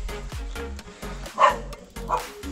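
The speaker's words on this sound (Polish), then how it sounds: "kolejny piesek się odzywa" A small dog barks in repeated yips and bow-wows close by, around an old Sampo Rosenlew 500 combine harvester, with loud peaks near the middle and end and brief faint whimpers between.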